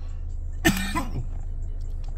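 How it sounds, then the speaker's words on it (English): A single short, sharp cough stands out over a low steady hum, then quiet background follows. "I'm not ashamed to cough."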